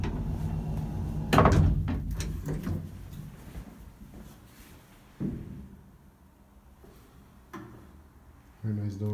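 Folding doors of an old skyscraper elevator in Zagreb are worked, with a loud clattering slam followed by a few rattles and knocks, then quieter mechanical clunks in a hushed lift shaft.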